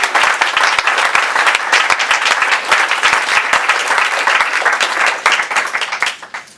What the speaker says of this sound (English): Can we hand clap on that?